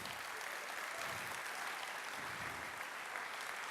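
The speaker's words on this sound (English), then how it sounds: "Round of applause for the folks that made this happen with some monies." Audience applause at a security conference opening ceremony thanking sponsors, a dense, even roar of many hands clapping throughout, moderately distant and without talk.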